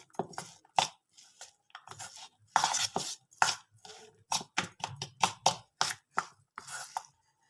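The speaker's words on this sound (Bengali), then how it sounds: "সব কিছু এবার ভালো করে মিশিয়ে নেবো মুড়ির সঙ্গে।" Puffed rice is mixed with gram flour, chopped tomato, black pepper and spices in a bowl, giving a series of crisp rustling, scraping bursts. The strokes come in an irregular rhythm, close and fairly quiet, with no talking.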